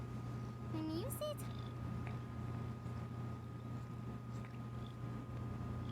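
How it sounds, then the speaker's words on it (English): A house cat purrs in a low, steady, continuous drone that runs through the whole stretch, with a brief higher chirping call near the start. "Yes, and I heard Kaito purring."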